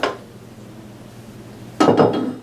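Dry pasta drops into a metal pot with a brief clattering rush of hard pieces striking metal, close and fairly loud after a quiet stretch, preceded by a short clink at the start.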